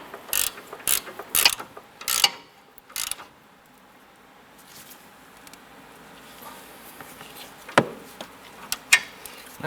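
A hand ratchet tightening the lower sway bar end link nut on a 2007-2012 Nissan Versa, quick clicking bursts of the pawl close up, then a quieter pause and a few more clicks.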